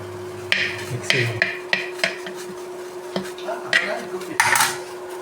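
A spoon scrapes and knocks against a pan while sardine stir-fry is stirred, irregular clinks and scrapes over a low hum, no one speaking.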